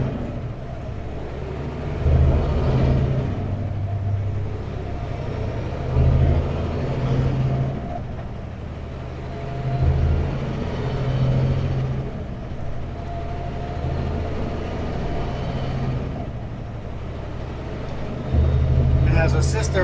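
Traffic rolls across Portland's double-decker Fremont Bridge, heard from inside a moving vehicle as a steady road rumble with recurring swells of passing trucks and a hiss of air brakes, while people talk over it.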